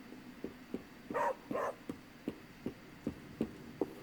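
A dog barks twice in the Marvel Midnight Suns video game, close and clear, over a faint, steady rhythmic thumping in the background.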